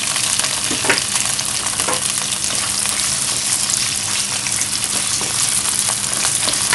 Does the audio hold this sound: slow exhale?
no